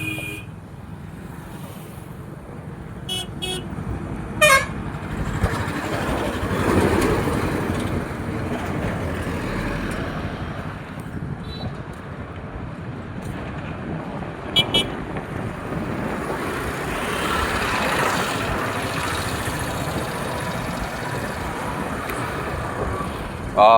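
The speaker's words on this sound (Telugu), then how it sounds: "అంత బిజీ ట్రాఫిక్." Busy roadside traffic near Akelluru, with passing buses and cars rumbling by, short horn toots now and then, and people talking over the steady road noise.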